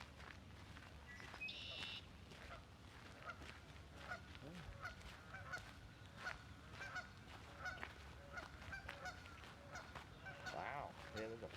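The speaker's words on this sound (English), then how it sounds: "Got some geese" Geese honk repeatedly in scattered bursts over a noisy outdoor background, with some shuffling or footsteps nearby.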